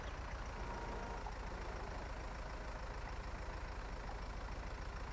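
Tractor engine running in a farming video game, a steady, continuous low mechanical drone with even loudness throughout and no talk over it.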